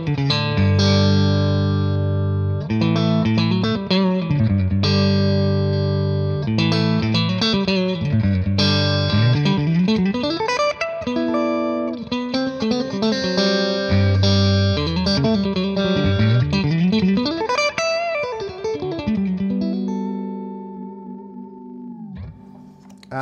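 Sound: electric guitar through Brunetti Singleman 16w amp, fat setting

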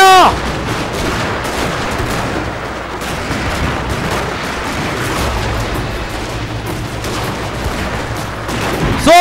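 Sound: musket gunfire volleys in the video game Shogun 2

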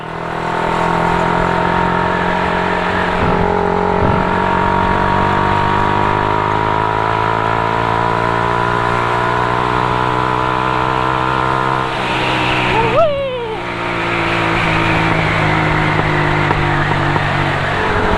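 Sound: car exhaust revving

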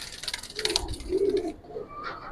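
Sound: Giribaz pigeon cooing

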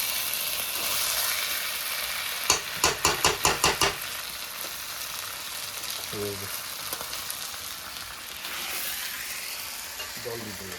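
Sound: hot water added to meat curry cooking in pan

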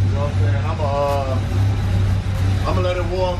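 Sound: 1987 Buick Regal Turbo T engine idling while warming up

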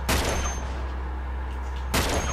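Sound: gunfire in the video game Uncharted 2

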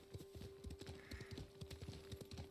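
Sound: horse clip-clop in video game Rocket League

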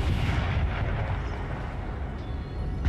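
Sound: 12-pounder artillery cannons firing in the video game Napoleon Total War

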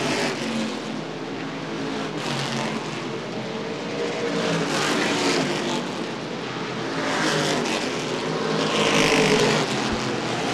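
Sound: street stock cars racing on Winchester Speedway

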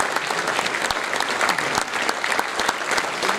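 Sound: audience applause

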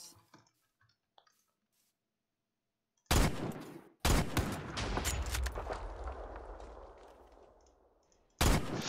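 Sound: grenade thrown in a modded war battle royale video game

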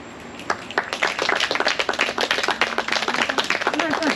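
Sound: audience clapping at a poetry reading

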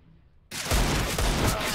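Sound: gunfire in a video game

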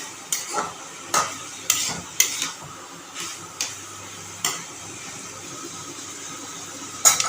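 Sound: frying and stirring ridge gourd with poppy seed

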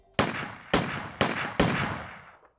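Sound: gunshots

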